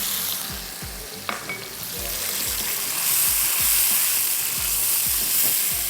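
Masala of ginger, garlic, tomato puree and browned onions fries in a pan, giving a steady close sizzle with soft stirring scrapes that grow slightly louder.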